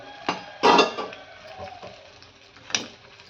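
A spoon scraping and clinking against a pan as chili powder is stirred into a potato and broad bean curry, with a few close metallic knocks and softer scrapes between them.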